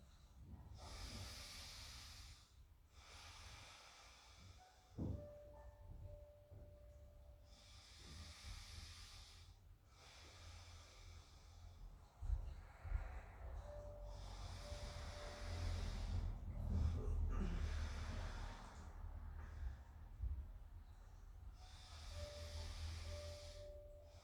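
Five deep yoga breaths are heard, each slow airy inhale and exhale rising and falling in a regular rhythm, close and fairly soft, with short pauses and light movement noise between them.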